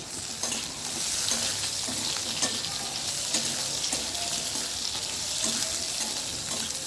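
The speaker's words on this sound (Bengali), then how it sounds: "এবার আলুগুলো দিয়ে দিচ্ছি" Potato pieces with two bay leaves frying in a hot pan, a steady close sizzle with occasional stirring scrapes and faint water-like hiss throughout, no talking.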